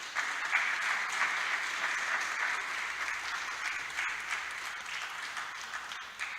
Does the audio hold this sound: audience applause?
yes